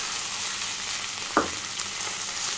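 Boiled chopped potato dropped into a pan of sabudana khichdi frying with cumin and curry leaves, giving a continuous sizzle and one brief close clatter as it goes in.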